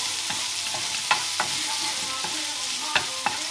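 Chopped onion sizzling in a pan for pork chops in mushroom sauce, a steady hiss with occasional soft scrapes and taps of stirring, close and continuous, nobody speaking.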